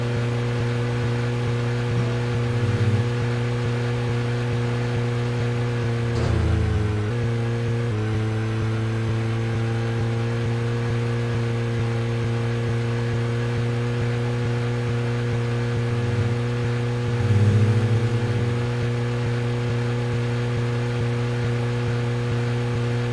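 A steady, droning car engine in the game Deadly Premonition hums at an even pitch like a boat motor, with a couple of brief revs and dips in tone partway through.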